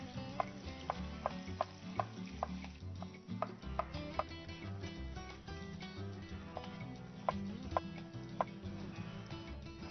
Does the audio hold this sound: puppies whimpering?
no